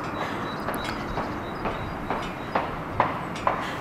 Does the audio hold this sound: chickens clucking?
no